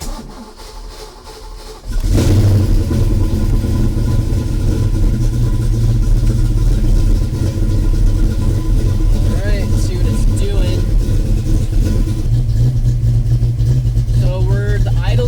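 A Fox Body Mustang being tuned ahead of a turbo install cranks and fires at about two seconds. It then settles into a loud, steady, rumbling idle, while people talk over it now and then.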